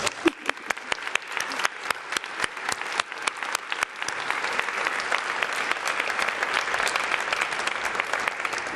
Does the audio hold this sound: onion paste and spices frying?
no